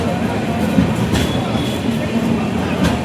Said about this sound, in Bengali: ট্রেন ছেড়ে চলে যাচ্ছে